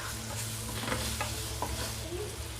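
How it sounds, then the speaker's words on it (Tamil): Garlic, green chili and onion sautéing in oil, a brief close sizzle with a few sharp stirring scrapes, no talking. "இப்போ இது எல்லாத்தையும் சேர்த்ததை வந்து லைட்டாக வதக்கி எடுத்துக்கலாம்"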